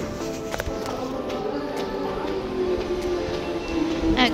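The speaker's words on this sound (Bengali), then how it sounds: "একটা ট্রেন এসে গেছে," A train pulls into an outdoor suburban station in a park area, producing a steady low rumble with a rising whine and faint clacks, fairly close and continuous throughout.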